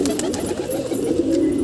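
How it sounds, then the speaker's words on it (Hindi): A pigeon coos on a rooftop, close and fairly loud, its soft throaty rolling call filling the short moment with no speech over it. "दोस्तों अभी भी एक नया कबूतर आया है"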